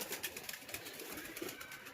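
Pet pigeons cooing softly outdoors, faint low calls repeating in a loose rhythm against quiet background hiss.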